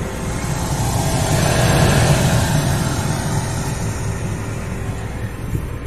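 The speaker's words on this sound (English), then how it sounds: "you may have heard the fan kick on" Cab heater fan whirring inside a 1995 Holden Isuzu Rodeo with its engine idling and a faulty alternator, a steady broadband hum and rumble that swells slightly then holds evenly, no voices.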